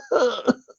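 A man imitates coughing with his voice, acting out an elderly bearded figure: two quick rough coughs close to the microphone, the second one heavier, then a small throaty catch.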